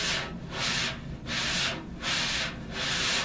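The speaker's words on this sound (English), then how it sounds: "we do that by scraping the brush along the head of the snare drum" A brush sweeps across a snare drum head in slow, even strokes, producing a continuous swishing hiss that swells and fades about four times.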